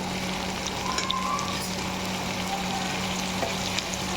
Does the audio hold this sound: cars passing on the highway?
no